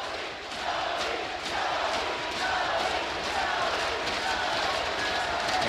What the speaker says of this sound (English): The fans applauding their goaltender.